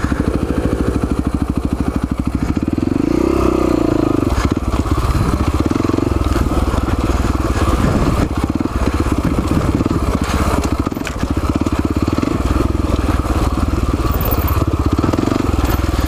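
A Husaberg FX450 motorcycle works its way along a steep, technical trail, its engine droning and revving continuously up close with some clatter and no talking.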